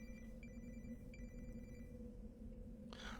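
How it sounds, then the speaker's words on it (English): A mobile phone rings faintly in short repeated trilling bursts over a steady low background hum during a computer gaming session. "That's just my phone ringing."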